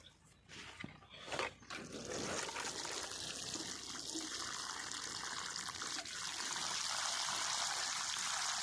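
Water poured onto the soil around a newly planted neem tree (Siamese neem) after digging a deep planting hole, a steady trickling stream running continuously after a few brief knocks at the start.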